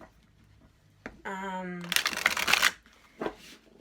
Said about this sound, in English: I randomly put the cards back in the deck, and I shuffle them really, really well for each group